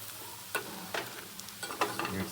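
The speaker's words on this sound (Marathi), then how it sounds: "ढवळून घेतोय प्रॉपरली." Khichdi with peanuts is stirred in a pot, giving several soft, irregular scraping strokes over a faint sizzle, fairly quiet with no talking.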